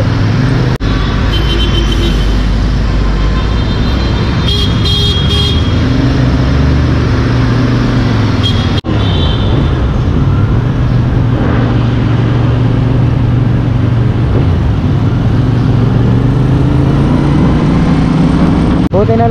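A CF Moto 450NK naked motorcycle riding on the road, a steady loud engine drone with shifting pitch and constant wind rush throughout, a rider talking over it.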